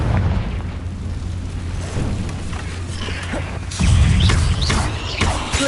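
A fiery Confringo explosion spell in the Hogwarts Legacy video game: a low, rumbling blast that swells into a louder burst near the end over a steady droning game soundscape.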